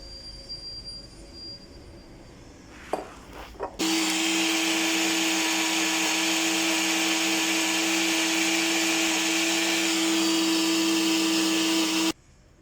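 An electric blender whirs loudly, grinding dried Indian costus root in its glass jar. A few handling clicks come first, then the motor runs steadily for about eight seconds before cutting off abruptly.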